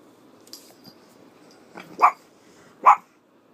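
A dog lets out two sharp barks about a second apart, preceded by a few faint small noises, fairly close with quiet background.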